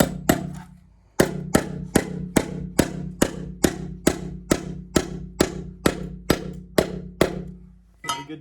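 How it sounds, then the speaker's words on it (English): A trap wire for a raccoon line is stapled onto a piece of firewood, giving about fifteen sharp, evenly spaced snaps close up, roughly two per second, with a brief pause after the first few. "I'm gonna take it and staple it onto this piece of wood."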